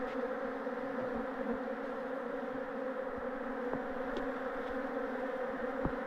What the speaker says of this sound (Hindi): सारी मधुमक्खियाँ जो अब धीरे धीरे करके हाइव के अंदर प्रवेश हो रही है